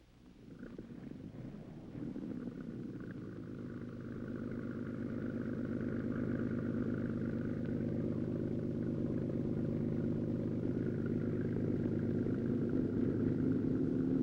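A canal tour boat engine in Amsterdam in about 1959 idles and then holds a steady, low, throbbing drone that builds slightly and continues evenly throughout.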